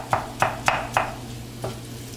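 Cabbage stirred in a pot with fat, four quick scraping stirs in a row and then one softer stir, over a faint low sizzle.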